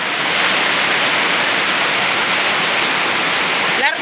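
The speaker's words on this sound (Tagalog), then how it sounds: "Grabe kayo guys ang uwan." Heavy rain pours steadily while floodwater rushes across a highway, a dense, loud and continuous roar of water with no break or voices.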